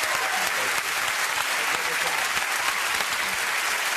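A studio audience at a TV talk show claps loudly and steadily, a dense continuous wash of applause filling the room with no gaps.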